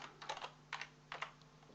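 Quick bursts of typing on a computer keyboard during Excel work, a few clusters of soft, close key clicks separated by short pauses.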